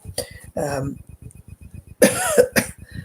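Several sharp coughs, a couple of short bursts early and two harsher, louder coughs later, close to the mic with faint rhythmic tapping underneath.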